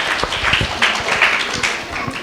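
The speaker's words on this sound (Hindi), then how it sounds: "सभी जोरदार ताली से स्वागत करिए बेटा" An audience at a school Independence Day celebration claps to welcome class 1 children onto the stage, giving a short burst of scattered, moderately loud applause.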